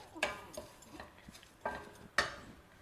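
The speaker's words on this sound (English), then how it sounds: "Dry roast this semolina lightly just till it gets hot." Semolina being lightly dry roasted in a pan, stirred with a utensil that scrapes and clinks against the metal in a few sharp, separated strokes; near and fairly quiet, with no voices.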